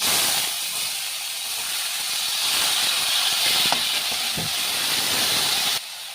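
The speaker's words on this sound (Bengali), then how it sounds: "একটু হলুদ আর একটু লবণ দিয়ে আমি এখন আলুটা ভেজে নেব" Potatoes frying in oil with turmeric and salt give a steady, loud broadband hiss close by, holding on without a break for about six seconds before it drops a little in level at the end.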